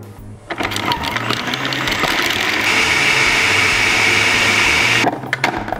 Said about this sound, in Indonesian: Langsung aja kita blender sampai halus.